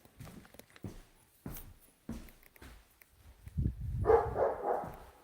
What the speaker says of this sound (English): He's barking like crazy today.